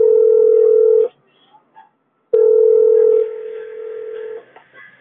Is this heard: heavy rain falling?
no